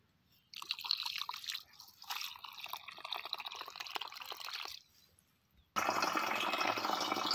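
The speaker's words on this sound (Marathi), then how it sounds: "घागर भरायला चालू झालंय" Outdoors on a farm, water runs from a trickle into a clay pitcher, with close splashing and dripping, a brief lull, then a louder steady gush filling the vessel.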